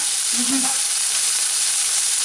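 Pork chops sizzle and brown in a hot pan, a steady close hiss with a brief low scrape of stirring near the start and no talking.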